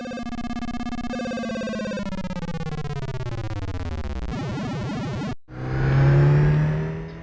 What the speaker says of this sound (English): They kept the cabin's road noise separate from the engine roar so that the engine could fade in and out.